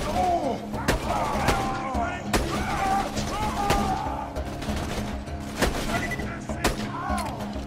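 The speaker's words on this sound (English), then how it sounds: "Impact grenades" Impact grenade blasts and gunfire in Borderlands 2 go off as a busy barrage of sharp reports and booms, several loud hits spaced irregularly across the stretch over continuous game noise and music, with a voice talking now and then.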